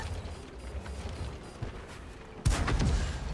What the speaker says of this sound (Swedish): Där fick du en jävla skott på dig, Bosse.